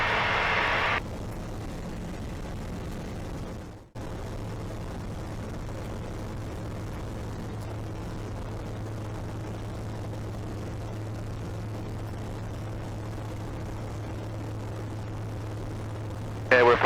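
A Eurofox microlight aircraft's engine drones steadily through a climb, heard as a constant low hum from inside the cockpit with a brief dip partway through and no talk.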